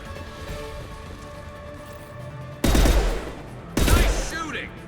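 Gunfire in the video game Mass Effect 2, two loud bursts of rapid automatic fire close up over a low rumbling game ambience.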